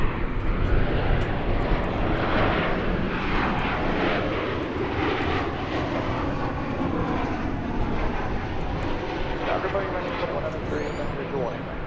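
A jet airliner roars loudly past at DFW Airport on takeoff or landing, a broad continuous engine rumble and whine that stays strong throughout with no voices over it.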